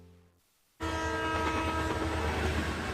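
A train roars past on railway tracks. It cuts in abruptly and loudly after a brief near-silence, then a sustained rumble carries a horn-like tone above it.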